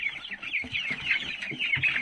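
Several hungry chickens in a brooder cluck and chatter nearby in quick, overlapping bursts, fairly loud and busy, with no talking.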